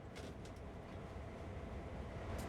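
A low, steady rumble of a train rolling along the track in the video game Trainz, continuous and fairly faint, with no voices.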